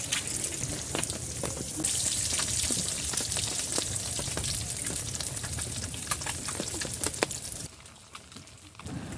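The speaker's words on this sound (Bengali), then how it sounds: "ডিমগুলো সুন্দর করে ভেজে রান্না করে নেব" Eggs fry in a pan with a little oil for egg bhuna to serve with khichuri, giving a continuous close sizzle with scattered crackling pops that quiets abruptly near the end.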